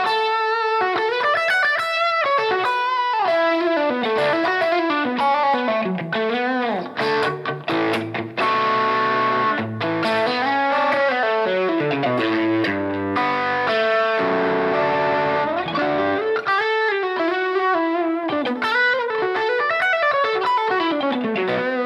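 An electric guitar played through a Strymon Iridium amp modeler stacked with a Boss drive pedal, giving a continuous distorted tone with ringing chords and bending melodic lines that fill the whole stretch, loud and alone.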